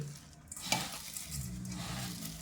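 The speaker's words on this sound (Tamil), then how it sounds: "நல்லா பிசைஞ்சு" Grated coconut and two spoons of cane sugar being mixed by hand in a bowl, producing close, soft rustling and squishing with a brief clink partway through and no speech.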